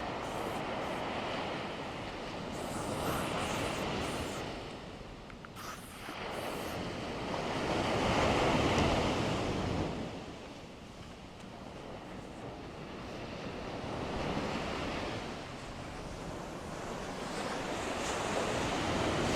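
Ocean waves at Tunnels Beach on Kauai, a steady roar of surf that swells and eases in slow cycles, with wind buffeting the microphone. No one talks.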